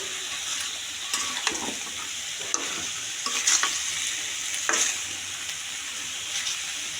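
Chicken pieces frying in a pan for a braised chicken bhuna, giving a steady close sizzle with occasional stirring scrapes and clicks, and no voices.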